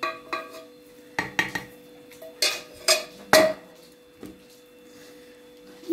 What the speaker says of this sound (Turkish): Kapağını kapatıp doğru fırına süreceğim dostlar.